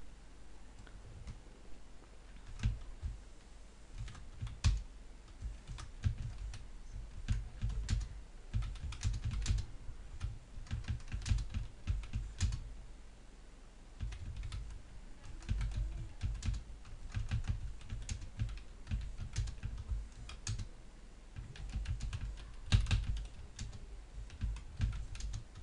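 Steady computer keyboard typing with dense, irregular key clicks running the whole time, close and moderately loud, no voices.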